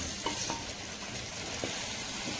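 Chicken dry roast frying in ghee as it is stirred, a steady close sizzle broken by a few soft scraping strokes of the spoon against the pan, with no talking.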